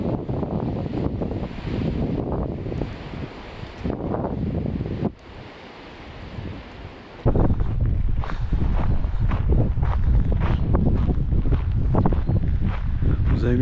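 Strong wind buffets the microphone outdoors on a beach, with crashing surf behind it, rumbling loudly and continuously apart from one brief lull. Someone talks over the gusts throughout.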